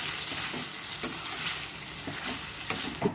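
Garlic sizzles in hot oil in a pan while tilli (spleen) fry cooks, with steady frying hiss and several soft scraping stirs of a spoon, close and continuous without talk.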